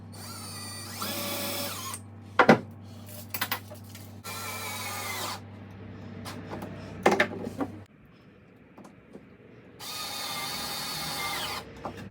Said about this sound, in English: it's perfect size to drill these pilot holes